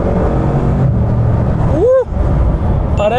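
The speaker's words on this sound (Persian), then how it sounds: "ترمزم که میکنیم از سرعت بالا اینطوری وای میسه ترمز میکنه" A Bugatti sports car slows hard from high speed on a highway, its steady engine and road rumble filling the cabin throughout, while a voice briefly exclaims near the end.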